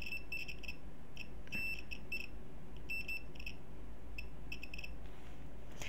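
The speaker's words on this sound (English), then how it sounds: "Continuity in this is really nice. It will beep." A multimeter on its continuity setting, used while soldering an AM/FM radio kit, gives short high-pitched beeps in irregular bursts, faint over a low background hum.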